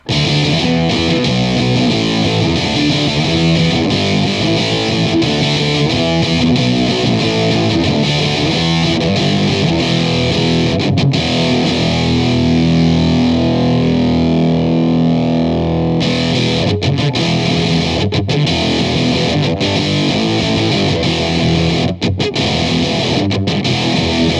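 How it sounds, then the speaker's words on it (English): Loud, heavily distorted electric guitar power chords through a LOE Sounds Super Fuzz pedal grind continuously with thick, octave-like fuzz, sustained and dense with no voices. "I just love that octavey, crashy kind of sound that it has when you do a power chord"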